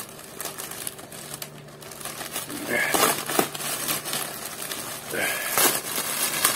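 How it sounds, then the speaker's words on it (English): Scissors cut through the tape on a package, with close crinkly snipping and rustling bursts. Someone talks quietly in between. "I know we have to cut past the tape."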